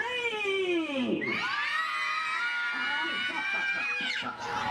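Crowd of children screaming together at a live Easter Bunny show, a loud sustained burst of high shrill voices that breaks off, then scattered shouts and laughter.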